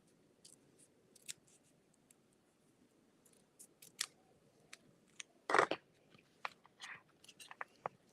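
Scissors snipping paper for a handmade holiday card, a quiet close series of irregular crisp cuts with one louder crunching snip midway, over a soft hushed background with no talking.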